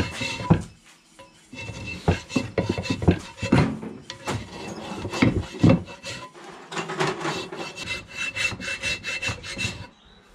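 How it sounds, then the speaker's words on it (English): A hand file rasps back and forth over a metal lip on a broken Suzuki Vitara front differential stub axle, with strong repeated scraping strokes in an uneven rhythm, close and loud, with no talking. "We'll just get the file out and fix that up"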